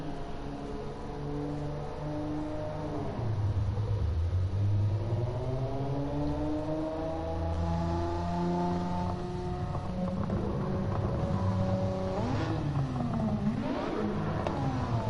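A race car engine in Gran Turismo 7 revs up and down through rising and falling pitch sweeps during a performance test run on a generic tune, loud and continuous for the whole stretch with no talking.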